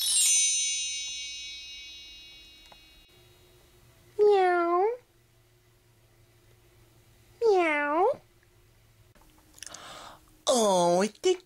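Three distinct cat meows from a little kitty in a plush-toy setting, each rising and falling, spaced a few seconds apart with quiet gaps between them, the last pair close together.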